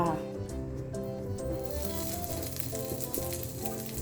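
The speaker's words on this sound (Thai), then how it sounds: "ผัดกับพริกแกงนะคะ" Red curry paste stir-fried in a little oil for a shrimp chu chee curry, giving a steady hissing sizzle with occasional stirring, and a voice talks over the start.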